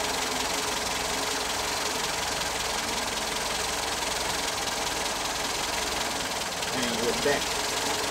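Toyota 4K engine in a Starlet KP61 idling steadily while its idle mixture screw is adjusted, a continuous broadband running drone with a faint knock, a brief voice speaking over it near the end.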